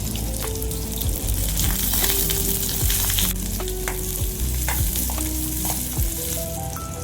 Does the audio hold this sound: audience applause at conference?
no